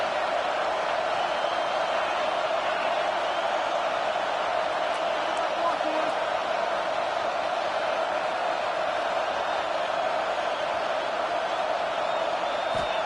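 A football stadium crowd cheering on third down, a steady loud roar held for the full length with a broadcaster talking over it.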